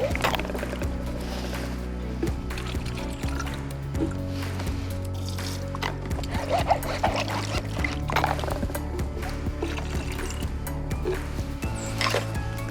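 A river water sample of river herring is poured and rinsed with a squirt bottle, giving soft continuous liquid pouring and splashing with small drips and handling noises over a low background hum.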